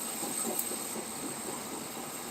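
Steam locomotive chuffing in the Roblox game High Iron, a faint hissing train sound with soft repeated chuffs at a moderate pace, quiet and without talking.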